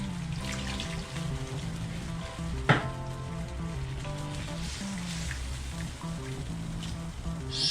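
Coconut milk simmering with jackfruit in a pot, a steady bubbling sizzle with a sharp clink partway through, heard under a continuous musical background with no talking.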